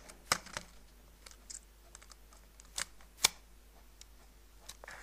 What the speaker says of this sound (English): Just going to turn the tape over.